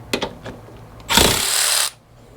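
A power tool loosens the roll bar bolts on a Jeep JKU, giving one loud, steady burst of about a second close by, after a few faint clicks and taps.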